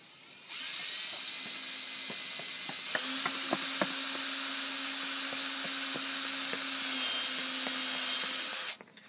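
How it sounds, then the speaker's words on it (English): A power drill bores through a plastic pipe cap and inner 2-inch pipe for an aquaponics bell siphon, giving a loud, steady high whine that runs about eight seconds with faint clicks underneath, then stops abruptly. "I'm going to go ahead and drill this hole here"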